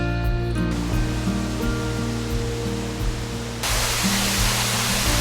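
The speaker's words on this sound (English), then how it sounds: "This is the Horsetail Waterfall" Horsetail Waterfall in Keystone Canyon, Alaska, pours with a steady, broad rushing hiss, constant and fairly near, with a low engine-like hum running underneath and no talking.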